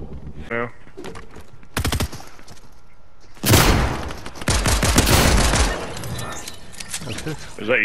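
Gunfire in the online shooter Fortnite: a few sharp single shots early on, then a loud, rapid burst of automatic fire lasting a couple of seconds, close by, with players talking around it.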